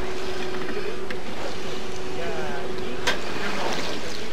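A steady air compressor hum drones loudly and constantly aboard the ship Calypso, with a fixed pitch over a wash of noise and the sound of water and a boat around it.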